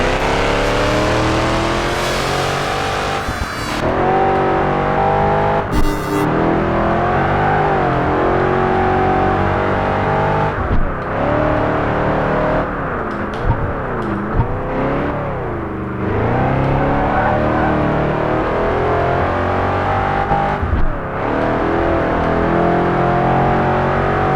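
A race car engine in Project Gotham Racing 4 on a hardcore platinum championship stage revs hard and continuously, rising and dropping in pitch through gear changes and throttle lifts, loud and close, with brief skids and no speech.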